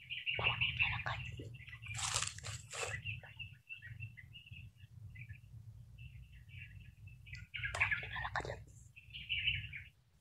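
Small birds chirp and tweet in short bright bursts, clustered early and again near the end, over a steady low hum in a quiet setting.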